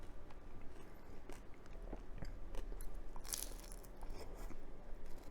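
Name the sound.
crunchy bite of fried banana eggroll turon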